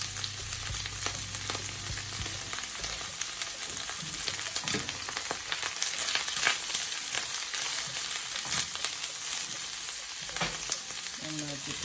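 Onions fry in a pan for breakfast, with a steady broadband sizzle throughout, punctuated by clinks and scrapes of stirring, and a low hum at the start.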